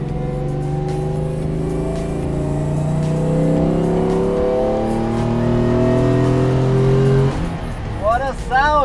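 A race car engine roars and revs steadily, rising in pitch, then drops off near the end with a brief squeal over a constant drone.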